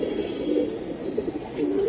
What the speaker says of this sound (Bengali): খুবই কোয়ালিটি একটা কবুতর